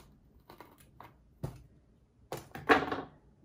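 A houseplant stem is cut just below a node, leaving a few quiet snips and small handling clicks, with one sharper crunch of the cut near the end, close and fairly soft.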